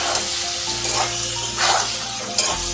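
Vegetables frying in a pan crackle softly as salt and turmeric are stirred through them, with a few brief scraping swishes over a steady low sizzle.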